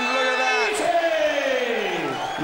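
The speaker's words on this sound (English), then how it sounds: "Yes, gives the clan, Mac Thornton, something to cheer." A darts crowd at the 2008 World Championship roars and chants in loud sustained cheering with rising and falling whoops, mixed with voices calling out.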